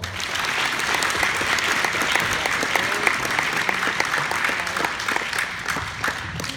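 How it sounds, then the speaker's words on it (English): A crowd at a high school walk-in assembly gives a steady round of applause, dense overlapping claps sustained at an even level throughout. "Let's give them a round of applause."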